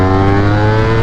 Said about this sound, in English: who is redlining their bike and then going down to idle, basically?